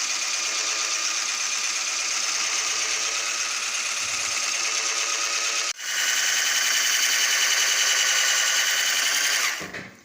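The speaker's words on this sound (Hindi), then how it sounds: "कोको पाउडर डालने के बाद इसको मैं अच्छी तरह से ब्लेंड कर लूँगी" Electric mixer or blender whirring steadily while blending cake batter with cocoa powder for a chocolate marble cake, loud and continuous with a brief dip midway, then cutting off at the end.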